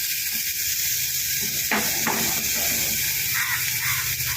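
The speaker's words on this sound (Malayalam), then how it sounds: "നെയ്യ് ഒഴിച്ച് വറുത്തെടുക്കുക." Banana flower fries in ghee with a steady close hiss, broken by a couple of louder stirring scrapes and softer shuffling strokes, with a faint murmur of background sound underneath.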